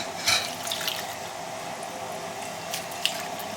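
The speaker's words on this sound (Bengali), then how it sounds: "মুগ ডাল আর মুসুরের ডাল একটু জল দিই" Water is poured into a pot of mung and masoor dal for khichuri, making a steady, close liquid rush with a couple of light splashes and drips.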